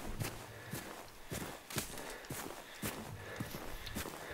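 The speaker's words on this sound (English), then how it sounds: "I can hear something fucking stomping around." Heavy mechanical footfalls of a machine stomping around in Generation Zero, a series of regular, thudding steps at moderate distance with faint ambient noise between.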